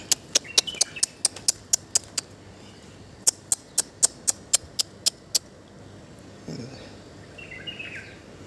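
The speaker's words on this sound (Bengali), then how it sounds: "পাখি ডাকতেছে" Sharp bird chirps repeat in quick rhythmic bursts, pausing briefly and then resuming, with fainter calls and soft rustling toward the end.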